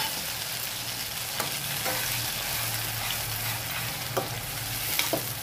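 Onion paste fried in oil for a paneer tomato curry, a continuous close sizzle with occasional sharp scrapes and taps as a spoon stirs it through the pan.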